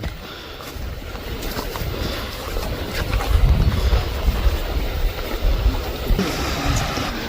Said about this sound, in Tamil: எங்களுக்கு முன்னாடி ஒரு அருவி கொட்டிக்கிட்டு இருக்கு,